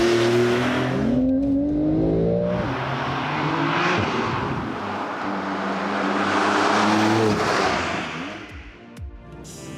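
Porsche 911 type 992 engine roaring loudly and steadily, its tone rising and falling through several gear changes as the sports car accelerates hard in sport plus mode, close and continuous, with no talking.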